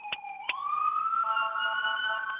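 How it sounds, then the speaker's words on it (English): An ambulance siren winds up after two short blips into a steady rising wail, moderately close and sounding alone without voices. "You see the ambulance driving and people still driving."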